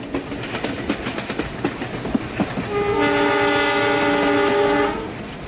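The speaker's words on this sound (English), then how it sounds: "This was a no-nonsense train, not a palace on wheels tarted up for tourists" A heavy-duty passenger train in southern India rolls along with rhythmic clickety-clack, then a long, loud horn sounds for a couple of seconds before fading.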